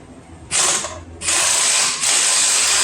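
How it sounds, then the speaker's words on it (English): Ratchet wrench clicking rapidly as it backs an alternator bolt off a Jeep during a high output alternator install, close and loud in bursts of steady ratcheting with short pauses between. "just put a wrench back there and then back it off with the impact"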